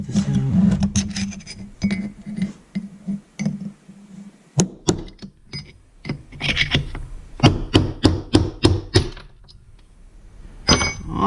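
A hammer knocks a stuck part out of a machine being taken apart, with sharp metallic blows, first scattered and then a quick burst of close, loud strikes, over low scraping and clanking and no speech.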